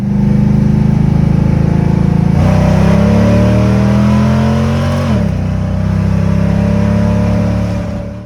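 A 1971 Dodge Charger Super Bee's V8 turns over and catches, then revs up in rising and falling surges with a steady, loud, close rumble and no talking.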